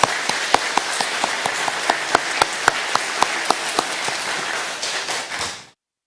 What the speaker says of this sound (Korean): 감사와 찬송과 영광의 박수를 올려드리겠습니다